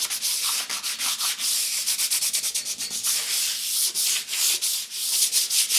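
Sandpaper rubs by hand in quick, rhythmic back-and-forth strokes over a metal firewall on a Model A hot rod, close and steady with brief pauses between passes.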